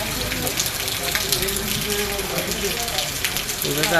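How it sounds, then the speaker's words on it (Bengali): Heavy rain pours down in a steady, dense hiss of water striking surfaces, loud and continuous throughout with faint voices underneath. "মুসলধারে বৃষ্টি হচ্ছে"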